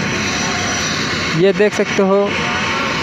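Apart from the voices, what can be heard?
helicopter at fair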